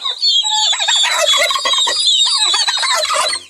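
A turkey gobbles loudly and close, a rapid warbling burst that carries on for several seconds with other fowl calling alongside.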